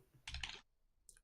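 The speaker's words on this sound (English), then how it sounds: "I'm typing." Brief bursts of typing on a computer keyboard, a quick cluster of close clicks followed by a short pause and one more faint tap.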